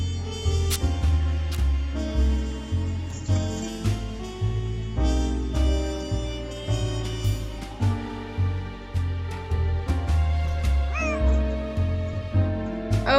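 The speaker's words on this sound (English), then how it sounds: "That's the cat Molly wants me to catch." A cat in a Nancy Drew adventure game meows over and over in a steady rhythm, with repeated close, clear calls layered over looping background music and no voices.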